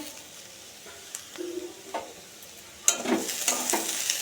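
Potatoes fry with onion and chili in a pan: a quiet sizzle broken by a few stirring scrapes, rising to a louder burst of crackling near the end.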